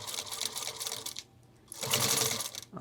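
A home sewing machine stitches a strap close to the hardware on a homemade 30L ultralight hiking backpack, with two bursts of rapid, close needle chatter separated by a brief quiet pause.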